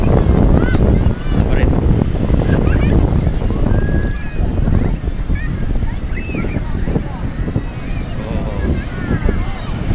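Big ocean waves rolling onto a beach at Ambal, a loud continuous wash of surf with wind buffeting the microphone and people talking over it.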